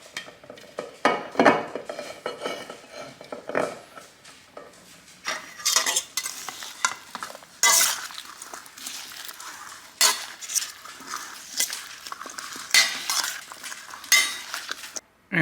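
Ribeye poke being mixed in a bowl with a utensil, close scraping and clinking strokes in irregular bursts against the dish, some sharp knocks between quieter stretches, with no talking.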